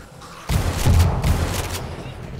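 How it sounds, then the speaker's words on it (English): A grenade explosion and gunfire during horde night in the video game 7 Days To Die: a sudden loud blast at about half a second, followed by a rumbling mix of shots that fades slowly. "And then we'll chuck a grenade down there."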